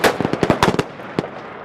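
Rifle fire during Marine officer training at Quantico, a rapid volley of sharp shots with one more report a moment later, fairly close and loud, with no voices.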